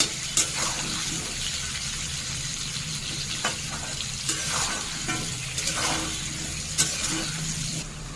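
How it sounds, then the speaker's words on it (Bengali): Potatoes frying in oil in a home kitchen, giving a steady soft sizzle with occasional stirring clatters, close and fairly quiet throughout. "আলুটা প্রায় ভাজা ভাজা হয়ে এসছে"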